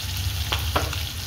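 Onion frying in a pan on the stove for a homemade chicken recipe, a steady close sizzle with a couple of brief stirring scrapes and no voices.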